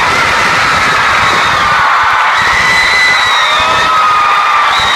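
A live audience cheers and shouts loudly for a singer, a dense, continuous crowd roar with whoops and high voices, close and heavily saturated throughout.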